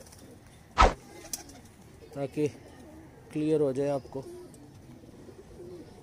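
Salara teddy pigeons coo in short bursts close by, with someone speaking Hindi between and over the calls.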